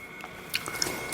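Someone bites into a ripe, still-crisp persimmon fresh from the tree and chews, giving a few short close crunches and squishy mouth sounds with no talk over them.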